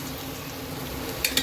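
Oil heating in a wok, giving a faint, steady low sizzle with a couple of brief sharper crackles near the end.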